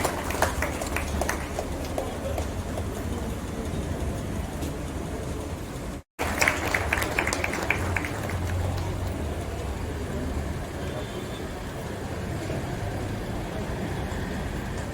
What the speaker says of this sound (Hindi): जोरदार तालियां हो जाए हमारी ये।